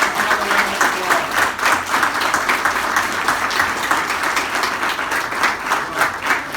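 Sustained applause from an audience honoring the 2019 Principal of the Year finalists at an awards announcement, dense steady clapping throughout with no one speaking.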